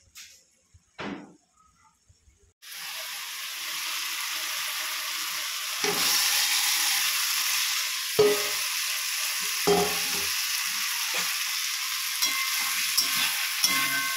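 Masala spices fry and are stirred in a hot pan with potatoes, a steady close hiss of sizzling interrupted by several spatula scrapes, after a couple of quiet knocks before the frying starts.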